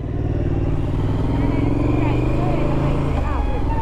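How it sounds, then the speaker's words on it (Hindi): A Triumph sports motorcycle rides through traffic in Goa, its engine droning loud and steady throughout, with road noise and someone talking over it. "बहुत टाइम के बाद मैं स्पोर्ट्स बाइक चला रहा हूँ।"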